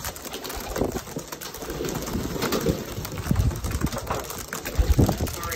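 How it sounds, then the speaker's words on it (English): Racing pigeons coo in a loft with several low, throaty calls, some close and loud, over a softer background of bird sounds and faint voices. "let's take a quick look at the birds"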